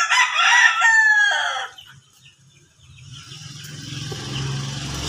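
A white Kelso rooster crows loudly and close at the start, one long call, followed by quiet and then a low rumbling background like a passing vehicle.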